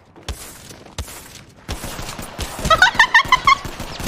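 Video game gunfire: a few sharp single shots ring out, then a denser rapid burst of loud, close reports with metallic pings in the second half, with no one talking over it.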